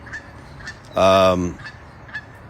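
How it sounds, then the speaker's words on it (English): A single loud, drawn-out honking quack from a duck rings out close by, with faint bird calls scattered before and after. "Ducks again."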